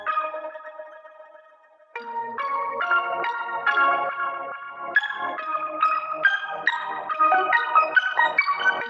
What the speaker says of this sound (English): The next sound comes from Native Instruments' Play Series instrument Stacks